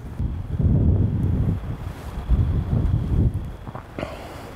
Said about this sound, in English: Wind is whipping. It's hard to hear because of the wind.